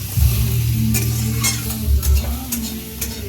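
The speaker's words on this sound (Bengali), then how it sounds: "এখানে মাছ ফ্রাই হচ্ছে, পেঁয়াজ রসুন ধনে পাতা এইসবকে" Fish frying in a pan with onion, garlic and coriander leaves sizzles loudly and close, with heavy scraping stirs and low rumbling bursts, no talking.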